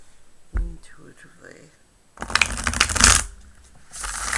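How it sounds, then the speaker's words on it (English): A deck of tarot cards is shuffled by hand, a soft riffle rising to a crisp, dense flutter, then settling; near and fairly quiet. "I love that shuffle."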